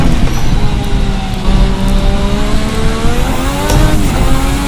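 Formula RSS 1986 V6 turbo race car in Assetto Corsa, loud close engine note rising and falling through gear changes, with turbo whine and wastegate hiss layered over the engine's steady roar.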